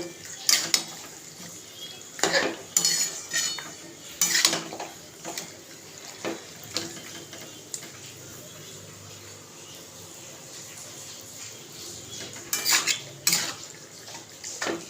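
A kilo and a half of meat cooks in a pot, with sharp metallic clanks and scrapes of a spoon against the pot coming in irregular bursts over a low background hiss.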